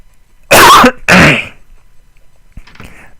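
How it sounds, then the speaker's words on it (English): A person coughs and clears their throat twice in a row, loud and close, followed by a fainter, shorter rasp after a pause, with no talking. "So sorry about all the coughing."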